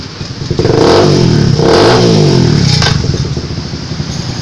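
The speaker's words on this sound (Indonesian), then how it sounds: "cukup pencet starter. Mesin sudah hidup." A motorcycle engine fires up close by with the electric starter and revs loudly a few times, then settles back toward a rough idle.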